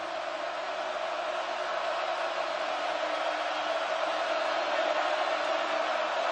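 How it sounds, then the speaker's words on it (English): Football stadium crowd cheering at Washington State versus Oregon in 2013, a broad, sustained roar of a large distant crowd, steady and swelling slightly toward the end. "Oh, listen to this crowd as they head into the end zone."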